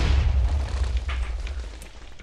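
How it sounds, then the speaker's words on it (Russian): A Minecraft explosion bursts with a heavy low boom and rumbling debris, loud at first and then gradually fading over about two seconds. "Все, я взрываю."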